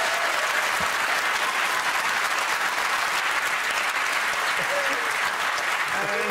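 Loud, sustained studio audience applause on a comedy game show, dense clapping and a few cheers running unbroken for several seconds, with voices faintly underneath.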